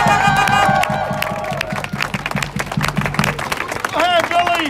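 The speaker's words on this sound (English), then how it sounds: "So can you give her a round of applause?" A crowd at a rally claps and cheers, rapid scattered clapping with whoops, mixed with voices and a rhythmic low pulse under the first part.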